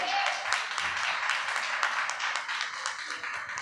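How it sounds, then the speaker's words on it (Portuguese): A church congregation clapping, a dense patter of many hands that fills the room and continues steadily with slight swells. "aplauda o Senhor se você está entendendo."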